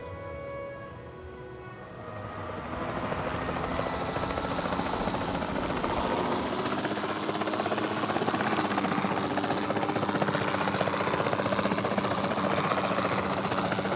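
A helicopter in the video game Jurassic World Evolution 2 drones steadily with a loud, continuous rotor and engine roar, swelling in after a quieter first two seconds and holding for the rest of the clip.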